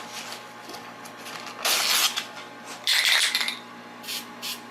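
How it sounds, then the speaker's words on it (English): Two longer hissing bursts of spray paint from an aerosol can painting a 2000 Arctic Cat ZR 800 snowmobile hood, with shorter spritzes before and after, close and fairly loud. "spray it up. Show the people how to use the spray can"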